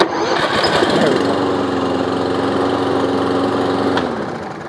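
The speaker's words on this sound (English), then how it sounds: "we can start this one push button" A push-button-start Toro lawn mower engine turns over and catches, running at a steady loud drone for a few seconds before cutting off.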